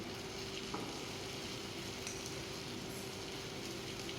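Grated potato rosti mixture sizzling in melted butter in a hot pan, a steady close crackle and hiss that holds evenly throughout without talk.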